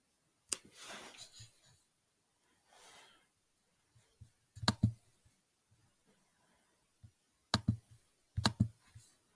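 A computer mouse clicks to open a Google Meet link. A few faint, isolated clicks are heard, some in quick pairs, with soft rustling and breathing between them in a quiet room.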